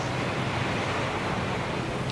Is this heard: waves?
yes